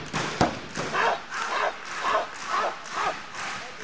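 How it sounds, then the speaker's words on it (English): A stray dog barks at night in a steady series of sharp, medium-loud barks, sounding somewhat distant, during a wrestling match. "There you hear the stray dog barking in the night."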